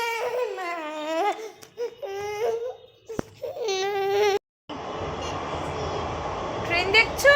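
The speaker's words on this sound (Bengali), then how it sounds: "এই যে এখন কাঁদছে একজন, মাও নেবে বলে," A small child cries near a railway in whiny, rising bursts, wanting to be picked up by its mother. A brief gap follows, then a steady broadband rumble fills the rest.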